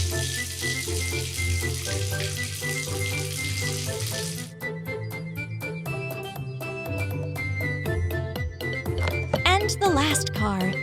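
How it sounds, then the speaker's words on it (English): Cartoon water rinses foam off a toy car, a running-tap splash over background music that shifts midway into brighter tinkling effects, steady and close. "Wash the foam off with water."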